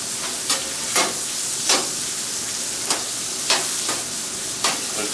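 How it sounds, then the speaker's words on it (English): Onions sizzle steadily on a hot teppanyaki griddle top, a constant close frying hiss broken by regular scraping strokes of a spatula about every second. "let's flip our onions"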